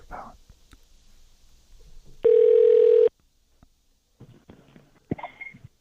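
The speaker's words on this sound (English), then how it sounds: "Answer your phone." A telephone tone sounds on a call, a single steady held beep lasting under a second, with quiet clicks and handling noise before and after and no talking.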